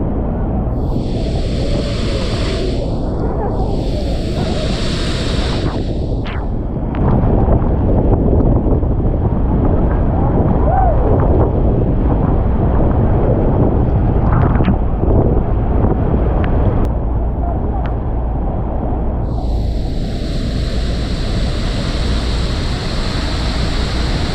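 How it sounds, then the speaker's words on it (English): Strong wind buffets the microphone aboard a Hornblower Niagara Falls cruise boat, a loud continuous rumble with roaring gusts that swell and fade over the engine and water. "It is windy."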